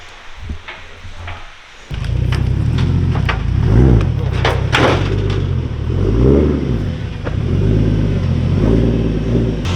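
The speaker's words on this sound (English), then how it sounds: "Putting the car in the trailer, just get after it." A car engine revs and rumbles as the car is driven up into a trailer, a low steady drone rising from about two seconds in and swelling in a few throttle surges, loud and close, with no talk over it.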